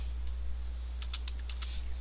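Someone keys a number in on a computer keyboard: a quick cluster of about six or seven light clicks, near and fairly soft, over a steady low hum.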